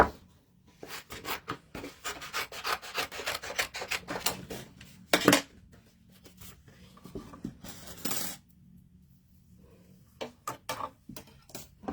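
A paper die cutting machine rolling dies through for a rough cut, making quiet rhythmic clicking and rubbing bursts with a few louder clatters and short pauses between passes.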